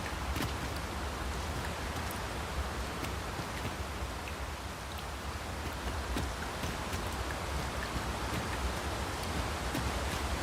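Steady rain falls in a fantasy role-playing game, Dragon's Dogma 2, a constant, even hiss of drops with light rustling, heard alone.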